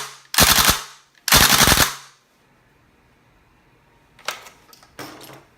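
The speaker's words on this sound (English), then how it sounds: "you can insert this magazine and dry fire the gun" Dry firing a WE Tech gas blowback Thompson airsoft gun: two loud, sharp bursts of rapid mechanical clacks in close succession, then quiet, followed by a couple of fainter single clacks.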